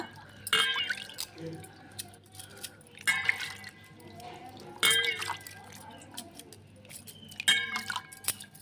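Water splashes and drips while skin gel is rinsed off hands in a sink, coming in several separate bursts of running and splashing with small clinks between them, close by.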